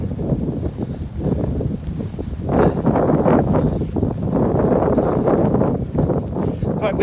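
Gusty wind buffets the microphone outdoors on a muddy riverside meadow by the River Thames, a steady loud roar that swells and eases in waves throughout.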